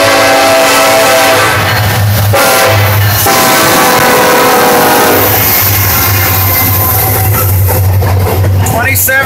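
A Norfolk Southern westbound intermodal freight train led by a Union Pacific locomotive rumbles past loudly and close, with a low droning engine tone, steady wheel and car noise, and a brief horn-like tone partway through; wind buffets throughout.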